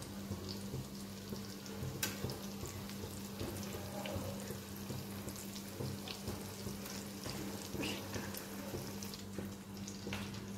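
Beetroot cutlets shallow frying in a pan of oil, a steady soft sizzle with occasional small pops and crackles, fairly quiet and close, with no one talking.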